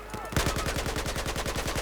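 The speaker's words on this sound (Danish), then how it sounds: "Shit, jeg blev skudt på!" Rapid automatic gunfire in the Battlefield 4 video game, a loud, even stream of close shots that starts abruptly and keeps firing in fast rhythm to the end.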